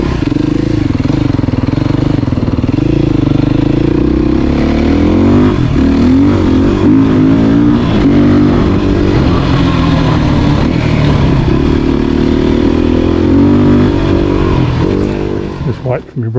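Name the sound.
motorcycle riding past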